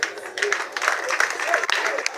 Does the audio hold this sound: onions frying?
no